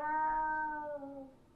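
A person imitates a cat's meow with the voice, giving one drawn-out, tonal mew that holds steady and then slowly falls and fades, heard close and alone.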